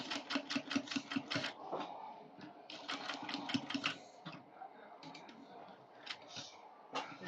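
A sewing machine stitches down kaftan fabric in quick rattling runs that stop and restart, fairly quiet and close, with a voice briefly talking in between.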